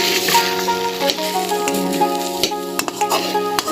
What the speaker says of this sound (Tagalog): Scramble egg without cooking oil.